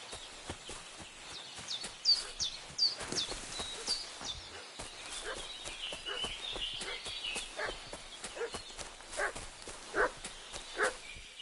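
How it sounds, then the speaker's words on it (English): A dog barks repeatedly in the medieval role-playing game Kingdom Come: Deliverance II, its excited calls rising over a steady outdoor background with light thumping that sounds like hooves. "What's that dog making such a fuss about?"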